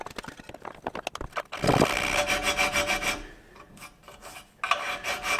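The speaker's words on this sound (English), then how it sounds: "So I'm just going to take a round file and one that's hopefully not too big" A round file rasping back and forth to enlarge a slot in an aluminium casting flask: several quick scrapes, then longer, rougher strokes in a close, uneven rhythm with brief pauses between.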